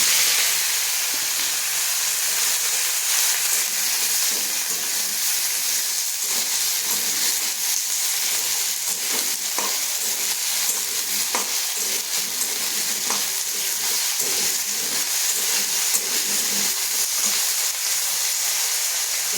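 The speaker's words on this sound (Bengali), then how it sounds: "এই যে জিরা লঙ্কা ফোড়ন দিয়ে আলুগুলো দিয়ে দেবো, আলুগুলো ভেজে নেব।" Potatoes frying in oil with cumin and chilli, a loud, continuous hissing sizzle that holds steady throughout with faint occasional stirring clicks.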